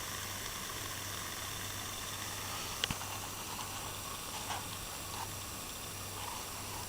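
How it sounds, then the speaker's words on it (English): Water boils over a small backpacking alcohol stove, giving a steady broadband hiss and bubbling with a low constant hum, close and continuous, with a couple of faint knocks. "This one's really boiling away."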